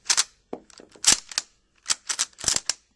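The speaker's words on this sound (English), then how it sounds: "chamber the last round, the follower has nothing to push on anymore, so the clip will fall out the bottom" A Carcano 1891/41 rifle in 6.5x52mm is worked as its en bloc clip drops out the bottom, heard as a quick run of sharp, close metallic clacks and clicks in uneven clusters, with no talking.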